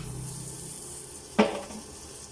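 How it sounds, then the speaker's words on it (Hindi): Butter dropped into a hot pan while making chicken white sauce pasta, giving one brief sizzling splash over a quiet kitchen background hiss. "हम मक्खन को ऐड करेंगे"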